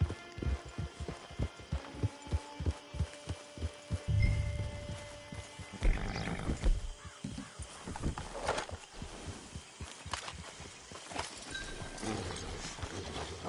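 Horse hooves clip-clop in Red Dead Redemption 2, a steady rhythmic run of close hoofbeats with a snort or whinny partway through, no voices.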